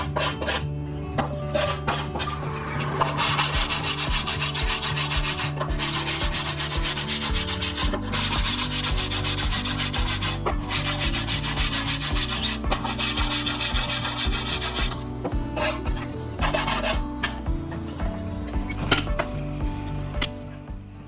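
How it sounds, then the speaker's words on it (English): Strips of wood are sanded by hand for a wine rack cabinet build, with repeated rubbing strokes scraping back and forth over a musical background. "Now all 42 of these strips of wood I ended up sanding by hand"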